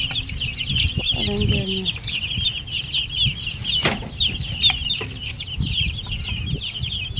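Chicks on a farm, just fed in their pen, keep up a rapid, continuous chorus of high peeping, with occasional clucks and a person talking briefly nearby.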